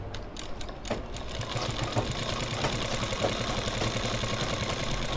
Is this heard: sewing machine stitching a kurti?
yes